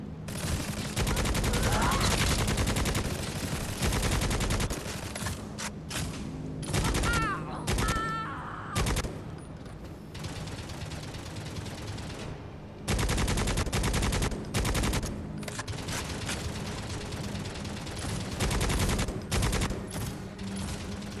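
Gunfire from a punchy gun in the video game Necromunda: Hired Gun, with repeated loud, rapid bursts of shots separated by short pauses across the whole stretch, over dense game effects.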